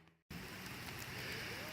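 Steady rain patters and hisses close by in a dense, even wash after a brief moment of quiet at the start.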